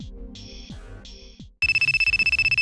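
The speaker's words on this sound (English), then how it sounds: "your phone's blowing up. That's a ton of missed calls." A phone rings with incoming calls: first a chirpy patterned ringtone in short bursts, then a louder, rapid repeating electronic ring pulsing evenly to the end, close and with no talking.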